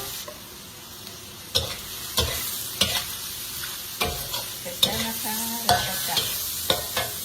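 A spoon stirs instant Mama noodles in a sizzling pan, with a soft frying hiss underneath and repeated scraping clanks of the spoon against the pan, close up.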